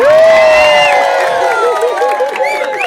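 Loud crowd noise at a New Year street gathering in Binuangan, dense cheering and clapping with shouting voices layered over it, sustained for a few seconds before easing slightly.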